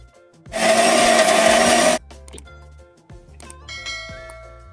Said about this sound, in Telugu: ఇప్పుడు మిక్సింగ్ బౌల్లో తీసుకుని అన్ని మిక్సీ చేసేద్దాం పేస్ట్ చేసేద్దాం